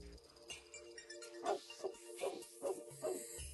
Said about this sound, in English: I do apologize for my dog.